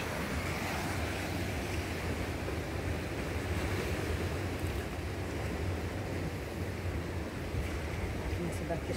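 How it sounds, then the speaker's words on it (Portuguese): Steady roar of sea waves washing continuously on a rocky beach, with wind rushing over the microphone throughout. "Esse barulho do mar é muito bonito também"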